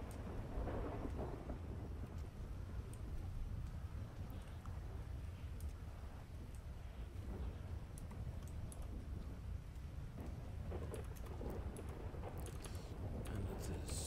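Thunderstorm weather in the FiveM mod of GTA V at night: steady rain hiss with low rumbling thunder rolling continuously, faint and distant, the downpour dense and unbroken throughout.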